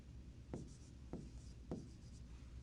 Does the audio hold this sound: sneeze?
no